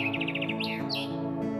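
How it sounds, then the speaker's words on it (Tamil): A flock of birds chirps in a quick run of bright, repeated tweets followed by a few rising calls, heard close over a soft, steady background. "வீட்டிலிருந்து சென்ற பறவை விரைவில் ஒரு அழகான பறவை கூட்டத்தை அடைந்தது."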